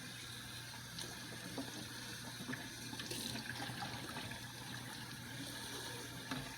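A detachable part of a Bissell ProHeat Revolution Pet Pro carpet cleaner being rinsed under a running tap, steady splashing water flowing continuously at moderate volume with a low hum underneath.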